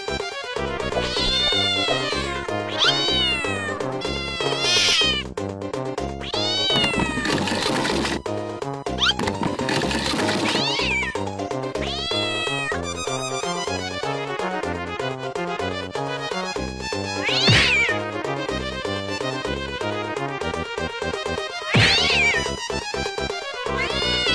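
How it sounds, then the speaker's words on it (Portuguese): A cat yowls and meows aggressively at a delivery man, drawn-out rising and falling cries repeating throughout, loud and close, with other clattering sounds mixed in. "o gato ficou virado nas cucuias"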